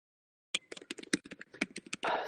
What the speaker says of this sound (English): Somebody's typing and I can hear the keyboard.